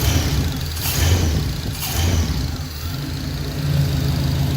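A 1966 Pontiac Catalina wagon engine idles steadily with a low, even rumble and slight pulsing, close and continuous, with no talking.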